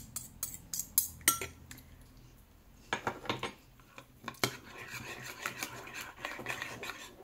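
A fork scrapes roasted sandwich filling out of a container, making quiet metallic clinks and rasping scrapes in short irregular bursts, close up with no talking.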